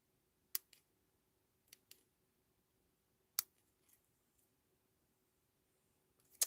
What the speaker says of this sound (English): give these a little bit of a trim